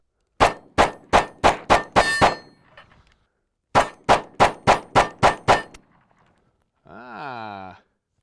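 Metallic clangs from a Kimber Micro 9 pistol being handled, two quick bursts of about six sharp, evenly spaced impacts each, loud and close, followed after a pause by a brief tonal whine.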